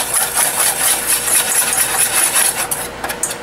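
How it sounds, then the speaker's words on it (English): Chickpea, whole wheat and all-purpose flours being whisked together in a bowl, a steady close scraping, rasping rhythm of repeated strokes without talk. "Let's whisk it up. Just whisk this all in."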